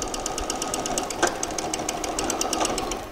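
A sewing machine stitches fabric for a pair of shorts with a steady, rapid needle clatter that runs without pause and holds an even loudness, two brief sharper clicks breaking in partway through.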